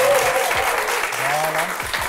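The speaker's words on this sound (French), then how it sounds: "Applaudissez pour eux, s'il vous plaît." An audience applauds with a continuous, fairly loud wash of clapping, while a voice speaks briefly over it.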